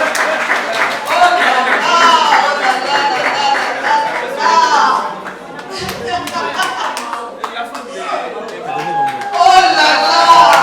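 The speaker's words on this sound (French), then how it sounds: "faites quand même applaudir, s'il vous plaît" Audience clapping in a room at an immigration information session, a steady patter of applause with some crowd chatter and voices mixed in throughout.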